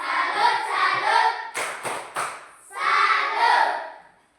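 A group of children clap a salute rhythm at a religious lesson, three sharp, loud claps in a quick pattern, set between stretches of group chanting.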